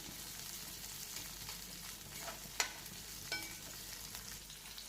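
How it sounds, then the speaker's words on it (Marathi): Chopped capsicum frying in a pan gives a quiet, even sizzle, with a couple of sharp utensil clicks near the middle. "या ठिकाणी ही आपण जी मिरची काटून घेतली होती ती दोन ते तीन मिनिट फ्राय होऊ द्यायची"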